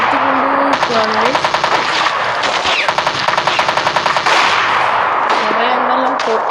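Video game combat rings out with rapid bursts of automatic gunfire, loud and close, in fast rattling strings with short pauses between them, while a voice speaks underneath.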